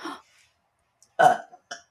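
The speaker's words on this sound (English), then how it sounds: "I have a burp coming up." A single throaty burp erupts about midway through, close and fairly loud, followed by a brief shorter sound; a short vocal noise comes just before it, with quiet gaps in between.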